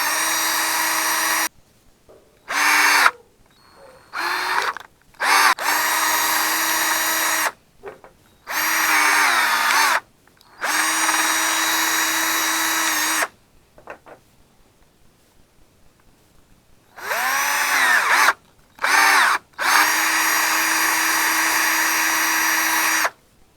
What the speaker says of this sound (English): The first thing I'm going to do is I'm going to drill a hole